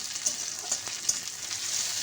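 Chopped tomato sautés in hot oil in a pan for a spicy okra and potato dish, a steady soft sizzle with a few faint stirring clicks, heard alone without talk.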